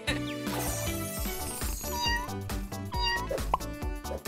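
A cat meows repeatedly over lively background music, the mews rising and falling in pitch and standing out against the steady beat.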